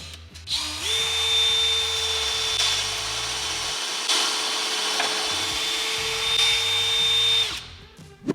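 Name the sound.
power drill drilling holes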